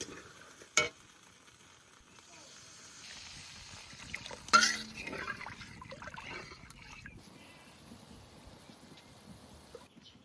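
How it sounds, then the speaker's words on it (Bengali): Water poured into a kadai of oil-released frying masala for a rohu fish curry, a sharp splash and burst of hissing sizzle that settles into soft stirring and bubbling, close and alone. "এবার জল দিয়ে দেবো পরিমাণ মতন।"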